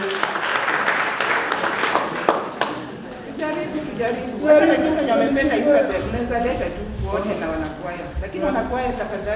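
Church congregation applause at a Kenyan cathedral's Music Sunday service, a burst of clapping early on that fades into crowd chatter and someone speaking over the room.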